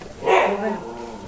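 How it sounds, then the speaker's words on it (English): Dogs at home bark excitedly when a man arrives, a brief burst of yips and barks mixed with someone talking over them in a room. "The dogs are very excited to hear him."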